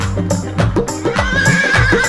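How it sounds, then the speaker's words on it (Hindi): A horse neighs loudly and close in a drawn-out whinny with shaky, wavering pitch, filling the whole moment at a devotional song gathering; no clapping stands out. "एक बार नीले घोड़े की आवाज आए आपकी तालियों के साथ।"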